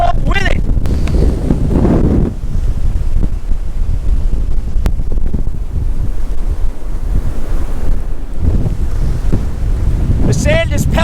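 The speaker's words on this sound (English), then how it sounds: "the wind is really pushing me. We're getting some good gusts, probably 60, 65 miles an hour" Hurricane gusts of roughly 60 to 65 mph roar across a Florida beach at Lantana, blowing sand and rain; loud, constant wind buffeting the microphone with surf beneath and a voice speaking through it.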